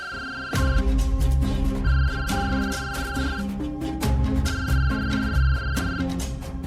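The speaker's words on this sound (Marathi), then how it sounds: "कोणाचा फोन वाजतो?" A phone ringtone plays in a home, repeating melodic electronic phrases in a steady loop at moderate loudness with no talk over it.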